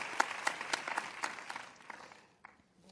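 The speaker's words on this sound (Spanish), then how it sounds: "Segundo aplauso." Audience applause at a televised debate on teachers, a brief burst of scattered claps that thins out and fades to quiet after about two seconds.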